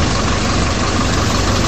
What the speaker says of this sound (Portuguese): tá com barulho de trator e velho ainda